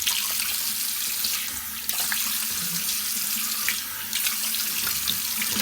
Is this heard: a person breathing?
no